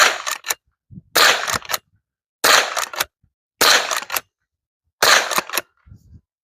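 Five sharp, loud rifle shots from a .22 LR lever action rifle, each crack followed by a brief metallic lever cycling, spaced roughly a second apart with quiet gaps between.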